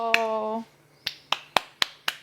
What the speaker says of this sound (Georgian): მე ტაშ უკრავ ჩემ თავს.